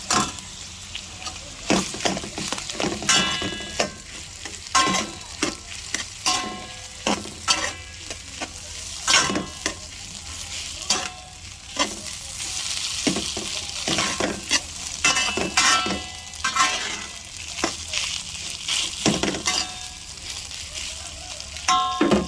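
Leftover cooked rice being stir-fried in a pan for fried rice, with steady sizzling and repeated scraping strokes of a spatula against the metal throughout, close and fairly loud.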